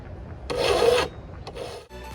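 A file rasps against a lawnmower blade to sharpen it, one long gritty stroke followed by a shorter scrape, close and fairly loud with no talking.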